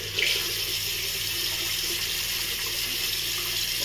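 Tap water runs steadily into a bathroom sink, a continuous close hiss and splash with no pauses, ready for wetting the face before a shave.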